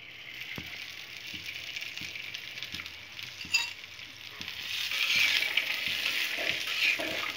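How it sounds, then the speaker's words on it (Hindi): Raw tamarind pickle ingredients frying in oil, a steady sizzle with soft stirring taps throughout, growing a little louder and brighter toward the end. "थोड़ी देर भून लेंगे।"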